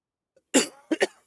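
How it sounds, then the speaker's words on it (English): One sharp cough followed quickly by a quick double cough, close and fairly loud against silence. "Sorry, a bit of a cough still."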